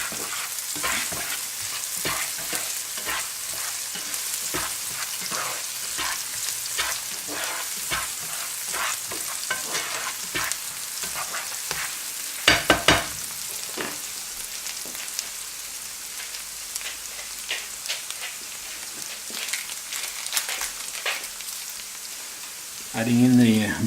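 Three or four garlic cloves fry in a pan for Spanish meatballs in tomato sauce, a close, steady sizzle with crackling spatters and a few sharper pops, ending with a brief low clunk.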